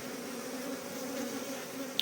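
Honeybees buzz in a steady, even drone at an open hive during an inspection after an oxalic acid mite treatment, with a short click near the end and no voices.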